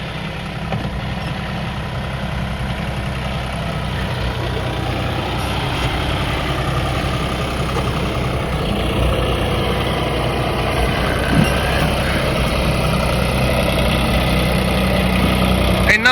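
A tractor engine runs steadily in a dry wheat field, a loud, even low drone with a slight rise in level over time and no talk.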